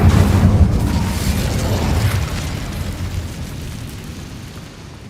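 A fire spell blasts in Hogwarts Legacy with a loud, broad burst that rolls into a roaring, fading rumble over about five seconds.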